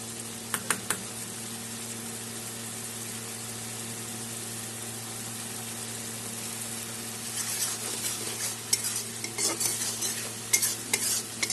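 Washed joya rice, about 100 grams, goes into masala frying in oil for a Bengali chal patal dish. Scraping stirs clatter at the start and again near the end over a steady low hum, with no talking.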